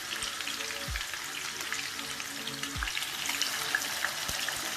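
Masala fish pieces fry in a pan for biryani, giving a soft, even sizzle with a few light clinks throughout, close and without voices.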